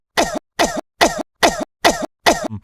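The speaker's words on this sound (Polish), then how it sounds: "Od kiedy masz taki kaszel?" A run of six loud, close coughs comes in a steady rhythm, followed by a short, softer throaty sound at the end. No one speaks.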